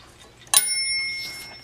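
A single bright metallic ding from the margin bell of a 1927 Royal #10 typewriter rings out sharply after a short quiet pause, then fades away in a sustained, shimmering tone.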